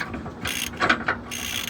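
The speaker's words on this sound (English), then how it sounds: "we're just gonna go ahead and tighten this back up" A ratchet wrench tightening bolts on the rack and pinion of a 1999 GMC Sierra, heard close up as a short run of sharp metallic clicking bursts with brief pauses.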